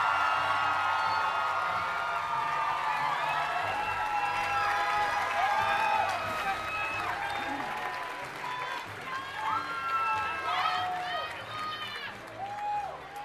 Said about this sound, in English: Another round of applause for the class of 2011